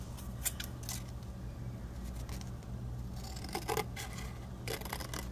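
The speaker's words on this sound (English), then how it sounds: "You're going to cut right in between here and straight up." Scissors cutting paper into scallop loops for a Halloween cauldron gift card holder craft, several quiet close snips and rasping cuts over a low background hum.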